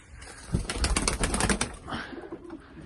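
Selocan pigeons from Izmir at a loft, with a burst of loud close wing flapping and scuffling that fades into quieter rustling and faint cooing.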